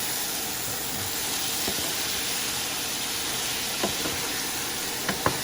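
Chinese broccoli stems and beef stir-fry in a hot pan with a steady, loud sizzle and hiss, broken by a few faint scraping stirs near the end.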